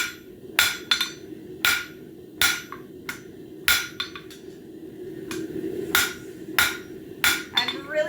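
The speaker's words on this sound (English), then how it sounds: "I'm trying to correct that as we go by hammering on all 4 sides." A hammer strikes metal in sharp, ringing blows, about a dozen hits spaced irregularly, close and clear over a low background hum while a bird feeder hanger is worked on all four sides.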